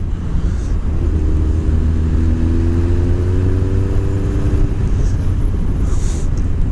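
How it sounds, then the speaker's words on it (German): A motorcycle passes by on an Alpine tour road through the Black Forest, a steady mid-pitched engine drone with a rising harmonic whine as it goes past, under loud constant wind noise. "Motorrad."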